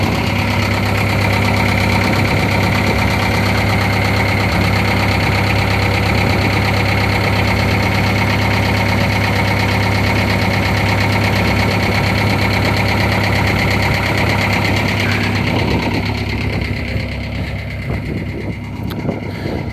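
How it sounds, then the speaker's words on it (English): A diesel engine aboard a 1970 narrowboat chugs at idle, a loud, steady knocking rumble close by that runs unbroken for nearly twenty seconds without speech. "If you can hear that diesel engine chugging away, I won't talk for a second."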